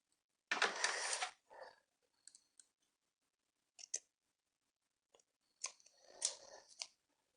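Scissors cut cotton wick for the coil of a Blitz Vapes Intrepid RTA. A few close, crisp snipping and crunching bursts are separated by quiet pauses, with no talking.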